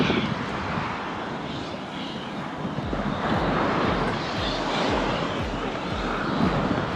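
An airplane flies low over Maho Beach, St. Maarten, its engine roar swelling into a loud, broad rush, mixed with surf and wind buffeting the microphone.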